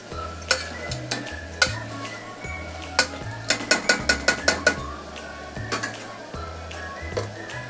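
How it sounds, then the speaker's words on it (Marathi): Food being sautéed and stirred in a pan, with a spoon scraping and clattering against the pan in quick bursts over a steady sizzle, close and fairly loud, with some music-like tones underneath. "हे असं चांगलं परतून"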